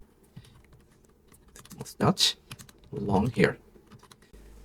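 A negative prompt typed on a computer keyboard, quick bursts of key clicks up close, mixed with someone speaking briefly.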